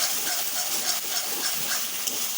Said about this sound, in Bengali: দইটা দিয়ে ভালো করে কষিয়ে নেব।